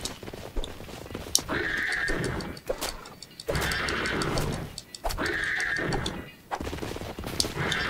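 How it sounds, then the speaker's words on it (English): A horse in the horror video game Withering Rooms whinnies in several long, shrill neighs, separated by short gaps and mixed with hoof clops and thuds, fairly close and without talk. "Horse. Lost horse."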